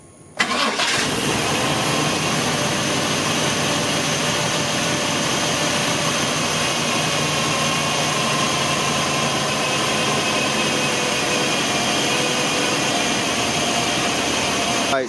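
Chevy 350 Vortec V8 in a Suburban cranks briefly and catches, then settles into a loud, steady, smooth idle running close by for the rest of the clip.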